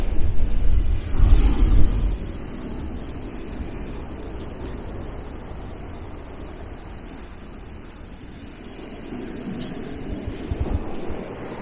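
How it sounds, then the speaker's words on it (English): Heavy swell and rough sea at Kilfarrassy Beach, a steady broad wash of surf with a louder rumbling surge at the start and another swell building near the end, heard from the shore with some wind buffeting. "It's actually not too windy, just a heavy swell on the sea."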